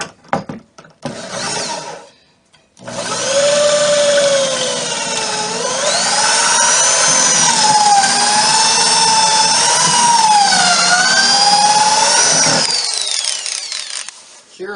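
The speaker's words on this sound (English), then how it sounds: "The jig is clamped in place, aligned with my alignment mark, and then I drill the pocket holes" A drill bores pocket holes through 3/4 inch wood held in a clamped pocket-hole jig. Brief bursts come first, then a steady, close motor whine runs for about ten seconds, its pitch sagging and recovering as the bit loads.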